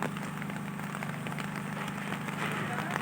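Steady rain falling over a hillside village in Azad Kashmir on a misty morning, a continuous dense hiss of drops spread evenly with no pauses, with a low droning hum underneath.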